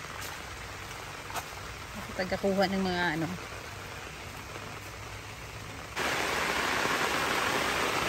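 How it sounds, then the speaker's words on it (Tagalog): Dense hiss of heavy rain throughout, swelling louder partway through, with a person speaking briefly in Filipino over the downpour outdoors. "Sa lakas ng ulan guys"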